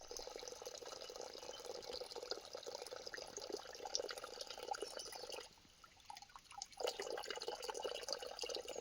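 Water trickles slowly and steadily from an old spring tap on a family hike in nature. The flow is faint and continuous, with a short quieter dip midway before it resumes.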